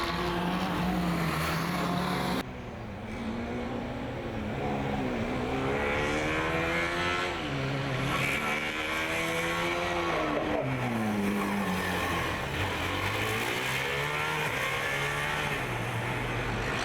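A Formula Student race car finishes its endurance lap, the engine rising and falling through repeated gear changes and throttle sweeps, loud and close, with a brief dip in level early on.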